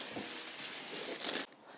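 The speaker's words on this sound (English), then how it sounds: "I'm putting a little bit of spray on it just so that the top doesn't dry out." Cooking spray hissing from a can onto a bowl of rising bread dough in a home kitchen, a steady close spray for over a second with a brief sputtering burst before it stops.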